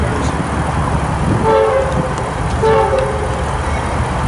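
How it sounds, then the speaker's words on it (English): A locomotive leading a ballast train on the Harrisburg Line gives two short horn toots in a little salute, heard over loud rumbling rail noise. "for the little horn salute"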